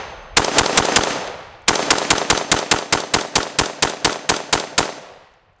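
Springfield Hellion bullpup rifle firing on a range: a few quick shots, a short pause, then a long, evenly paced string of loud, sharp reports, each ringing briefly before the next.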